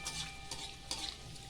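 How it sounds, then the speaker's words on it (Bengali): Gulab jamun made with sweet potato sizzle steadily in hot oil, with a few louder bursts of bubbling and light stirring scrapes, close and fairly quiet with no talk. "এখন আমি ভাজি, তারপরে ভাজা ভাজা গেলে নামানোর সময় আপনাদেরকে দেখাবো।"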